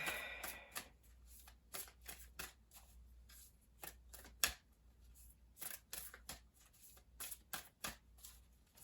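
Cards from a new Moonology Oracle deck are shuffled and pulled, making a series of crisp, close, quiet riffling snaps and flicks in irregular bursts with short pauses between them.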